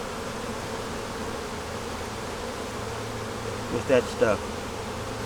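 Honeybees buzz steadily around a hive, a continuous droning hum that fills the scene while someone briefly speaks near the end.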